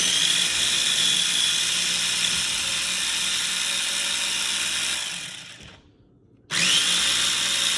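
A food processor grinds ingredients with oil: a loud, steady whirring drone runs for about five seconds, drops out briefly, then resumes at full level close up, with no talk.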